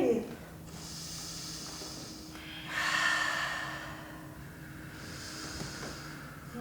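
Slow, deep breaths during a yoga flow: three long airy exhales, soft and close, spaced a couple of seconds apart, with a faint low hum underneath.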